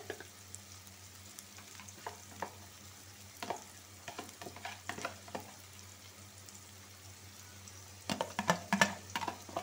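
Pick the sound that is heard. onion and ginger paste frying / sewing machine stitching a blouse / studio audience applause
onion and ginger paste frying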